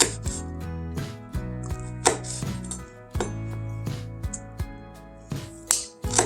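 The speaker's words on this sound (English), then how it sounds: "Actually, let's just slice them." A knife slices through stemmed vegetables on a cutting board, producing a run of crisp, close cuts with sharp knocks against the board at an uneven rhythm, with a faint musical background underneath.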